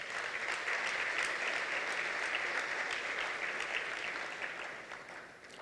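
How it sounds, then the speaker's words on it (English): Audience applause at a Doctors For a Cause 2024 event, a steady wash of many hands clapping heard from a distance, holding level for several seconds before fading out. "I want to give them a round of applause for that."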